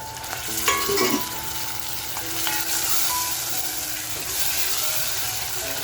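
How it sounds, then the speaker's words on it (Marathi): Homemade masala frying in a pan with mutton soup poured in for a village-style mutton curry, a dense, bright, continuous sizzle with a few spoon scrapes early on, close and steady. "आपण जो सूप तयार केला आहे तो टाकून मस्त असं मसाला फ्राय करून घ्यायचा आहे"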